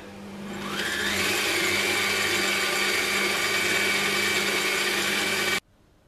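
An electric mixer whirs steadily and loudly for about five seconds, mixing flour with salt and baking powder for matlouh bread, then cuts off abruptly into near silence.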